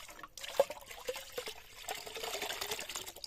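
Clean water trickling and splashing while green tomatoes are rinsed, soft uneven dribbles and drips at close range, fairly quiet, with no talk.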